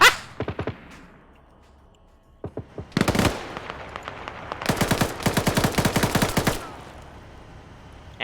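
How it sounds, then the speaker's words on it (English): Rapid bursts of automatic gunfire from a gun turret in a tactical shooter video game, short clusters of sharp cracks, then a long sustained volley, loud and close, with no talking. "Gun turret's now hitting these guys."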